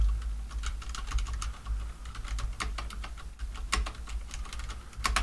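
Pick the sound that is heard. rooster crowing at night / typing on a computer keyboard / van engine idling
typing on a computer keyboard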